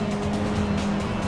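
A Caterham race car driven in a VR sim racing game gives a steady engine drone with a sustained tonal whine and some tire scrub throughout. The sound is loud and continuous, with no talking.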